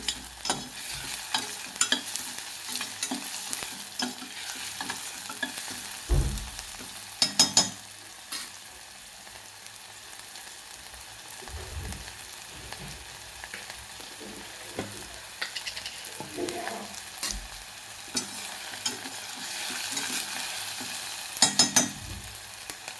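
Onion and tomato sizzle and fry steadily in a pan, with intermittent scraping and stirring clatters up close.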